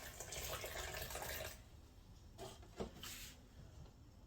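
Salt water poured into a bowl to start a bread dough in a home kitchen, a steady splashing stream for about a second and a half, then quieter handling sounds and a faint knock.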